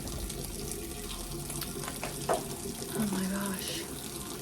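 Tap water runs steadily into a bathroom sink while a face is rinsed after cleansing, a continuous close splashing wash with a brief exclamation spoken over it.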